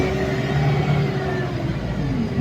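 Steady engine rumble and drone heard from inside a moving bus, a loud continuous low hum with a faint whine, close and unbroken, with no talk.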